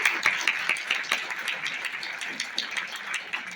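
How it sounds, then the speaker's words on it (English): Applause from a community forum audience in a library, a moderate steady patter of many hands clapping with a few sharper nearby claps throughout. "Can we give a big round of applause to Kathy for her pride?"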